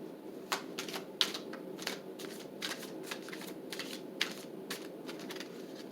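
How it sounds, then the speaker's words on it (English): A deck of tarot cards being shuffled by hand, quick soft riffling flicks repeating in an uneven rhythm, close and fairly quiet, with no voices. "Do a little bit of shuffling."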